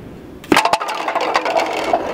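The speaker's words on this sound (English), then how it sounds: "This is a lethal projectile launcher." Homemade projectile launcher firing, a sharp crack followed by a rattling, clattering tail of smaller impacts, close and fairly loud.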